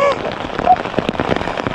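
Heavy rain falling on a bivouac campsite during a bicycle tour of Croatia, a dense steady hiss of drops on surfaces, close and continuous, with faint voices underneath.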